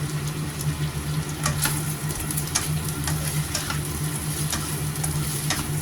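Chicken stir-fries in a pan just after Japanese eel barbecue sauce is poured in, giving a continuous loud sizzle broken by sharp scraping clicks from stirring. No one speaks.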